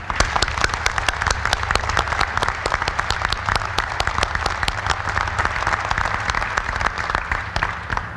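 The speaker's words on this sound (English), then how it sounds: "let's give all of our guests a round of applause" A crowd of guests at a Spirit AeroSystems expansion announcement in Wichita gives a sustained round of applause, dense and even from start to finish over a low background hum.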